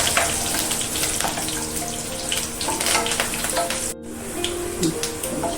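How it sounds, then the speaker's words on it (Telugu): Curry leaves crackle and sizzle in hot oil with urad dal and red chillies for drumstick leaf chutney, a dense, steady spatter close by with a brief dropout near the end. "కరివేపాకు వేసుకున్నాం"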